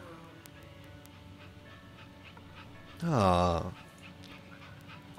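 A dog in the video game That Dragon, Cancer pants softly in the background, then lets out one loud, rising whimpering whine near the end, with a person briefly voicing a short exclamation.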